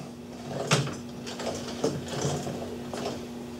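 Elevation crank on a ZB-30 machine gun mount being turned, giving a few faint mechanical ratcheting clicks and gear rattles spaced across the moment, close by with no voices.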